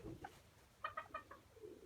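Soft clucking and cooing calls from Gurk chickens, a few short bursts grouped together, fairly quiet, with no talking.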